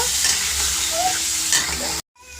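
Boiled potatoes and peas sizzle steadily as they fry in a pan and are stirred, giving a loud, continuous hiss close by. The sizzle cuts off abruptly near the end.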